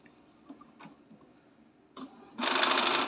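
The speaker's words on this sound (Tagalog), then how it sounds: "maririnig lang ninyo yung may magpa-process ng mga gears sa loob" Quiet mechanical clicks and ticks give way to a louder whirring of gears as an Epson L220 inkjet printer's mechanism runs during a reset.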